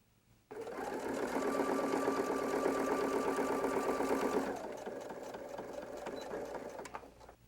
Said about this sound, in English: After pressing, we'll again top stitch 1/8 inch away from the edge of the fabric